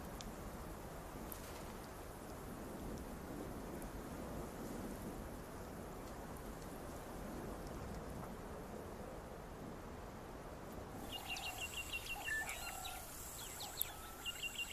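Steady hiss of heavy rain with a low distant rumble of thunder, then birds chirping as the downpour softens near the end.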